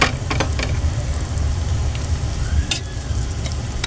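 Leftover fried fish being recooked in a pan, a constant dense sizzle and crackle with a few sharper pops and stirring scrapes, close and fairly loud, no talking.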